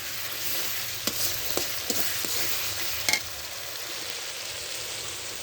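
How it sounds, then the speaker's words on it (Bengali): Spices sautéing in a pan for chicken curry give a steady close sizzle, with a few light scraping stirs and clicks of a spatula against the pan, and no talking. "দেখেন মশলা আমি কষি নিলাম"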